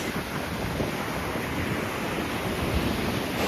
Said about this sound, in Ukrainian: Море сьогодні штормить.